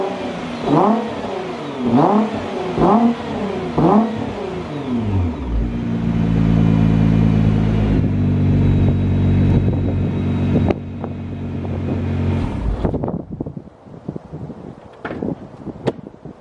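A Nissan GT-R R35 accelerates hard on its first drive after repair, with several rising rev sweeps through gear changes, then a sustained loud engine drone with wind noise before easing off and fading.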